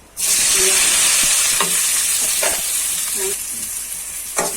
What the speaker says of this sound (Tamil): வெங்காயத்தை நம்ம பொன்னிறமா நல்லா வதக்கணும்.